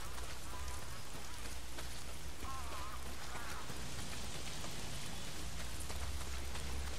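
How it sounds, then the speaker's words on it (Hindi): Steady rain patters at night in the zombie survival game Days Gone, a constant close hiss of drops on surfaces with no voices over it. "बारिश भी हो रही है, रात भी हो रही है."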